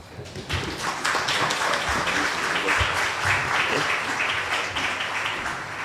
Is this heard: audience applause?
yes